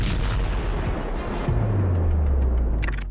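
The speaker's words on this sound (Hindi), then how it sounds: "धमाके, धुआं, धूल और विध्वंस।" Heavy artillery fire and explosions in a war between Iran and Israel, a dense roll of booms and crackling blasts followed by a deep sustained rumble, loud and close with no talk.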